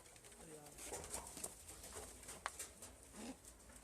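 Soft, low pigeon coos repeat a few times amid a busy, noisy background, with faint voices nearby.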